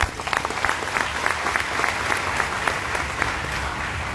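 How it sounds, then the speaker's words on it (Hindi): A crowd at a business event in Vadodara breaks into applause for arriving guests, a dense and sustained clapping from many people with some sharper individual claps poking through. "मैं चाहूंगा कि उनके लिए तालियां।"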